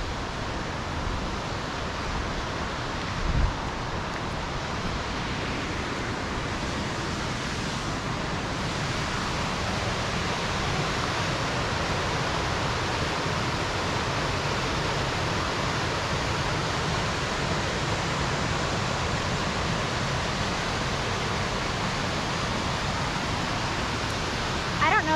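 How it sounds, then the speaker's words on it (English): A waterfall on the Middle Prong Trail rushes in a steady, loud, unbroken roar of falling water heard up close, with no clear voices over it. "I've named it the waterfall slide because it kind of looks like a slide"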